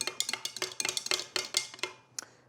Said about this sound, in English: Gonna give that another little stir just to mix it all together.